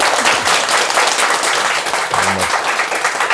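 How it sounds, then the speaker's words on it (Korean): Steady applause from a seated audience at a Korean Zen Buddhist dharma meeting, a continuous even wash of clapping at moderate level, with a brief low murmur partway through. "박수 한번 드릴까요?"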